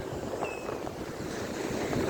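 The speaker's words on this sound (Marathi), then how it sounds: "या ठिकाणी पूर्ण समुद्रात लाठा लाठा उसळत आहे" Open sea waves surge and churn in a continuous broadband wash, mixed with gusty wind noise on the microphone, with no voices.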